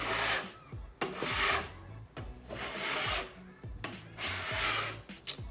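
A scraper drags across a wall, lifting old dried wallpaper glue in repeated rasping strokes, about five close, steady passes with short pauses between them and no talking.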